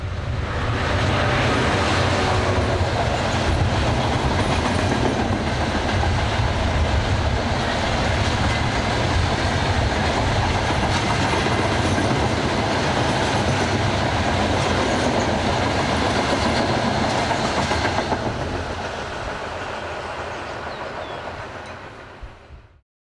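A Class 66 diesel locomotive hauls a train along rails with a steady, loud rumble and clattering wheels that carry on evenly before fading away at the end.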